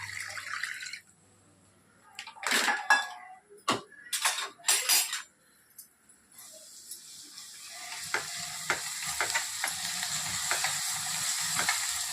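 Ground masala paste hits a pan of fried onions with a few loud stirring scrapes and clanks, then settles into a continuous soft sizzle with occasional utensil taps.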